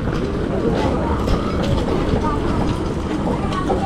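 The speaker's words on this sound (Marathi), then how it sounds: "चला ट्रेन निघाले." Aboard the Mandovi Express passenger train while it runs, a continuous low rumble and rattle of the moving coaches fills the space, with soft clatter and a murmur of voices in the carriage.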